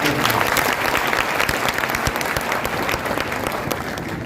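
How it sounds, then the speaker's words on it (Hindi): Steady, loud applause from an audience of young people at a Bhopal institute, continuous clapping filling the whole stretch without pause. "इन 35 के नाम पे ताली बजा दो भाई जरा।"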